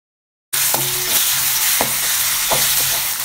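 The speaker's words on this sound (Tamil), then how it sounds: "ஒரு சட்டியில் தேவையான அளவு ஆயில் சேர்த்து அது கூட கடுகு நல்லா பொரிஞ்சதுமே அது கூடவே கருவேப்பிலை வெங்காயம் சேர்த்து இஞ்சி பூண்டு பேஸ்ட்டையும் சேர்த்து கொள்ளுங்க" Onion, curry leaves and ginger garlic paste fry in oil in a pan after mustard seeds have popped. After a half-second of silence a loud, close sizzle sets in, broken by a few sharp spoon scrapes, with no talking.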